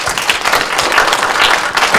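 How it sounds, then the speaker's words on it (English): An audience at a university talk in Gaborone, Botswana, gives a burst of dense, steady applause with many hands clapping together, fairly close and continuous throughout. "So let us give him a hand of applause again"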